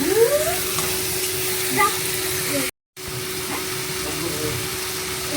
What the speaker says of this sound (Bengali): এবার কষতে থাকবো চিকেনগুলো সহ, মশলা সহ